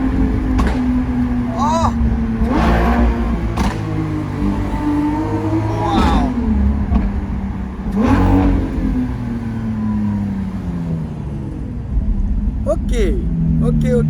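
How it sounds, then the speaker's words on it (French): A Lamborghini Aventador SVJ with a Balboni exhaust rumbling and revving in a city street at night, a steady deep engine drone with several short rising blips, heard under continuous close talking. "tu peux entendre ce magnifique bruit de l'échappement Balboni"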